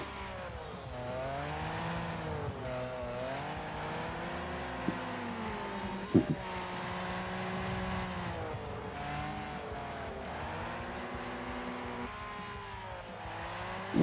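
Racing cars in Wreckfest mobile roar past with a steady, droning engine whine that rises and falls as they accelerate and shift, with a brief tire screech and knock partway through, loud and continuous.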